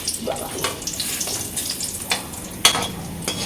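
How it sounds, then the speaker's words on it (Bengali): Dried red chillies crackle in already hot oil over a low gas flame: a close, bubbling sizzle with short bursts of spitting and a sharp metallic tap or two, with no voices. "এই যে দিয়ে দেবো লঙ্কা ভাজা"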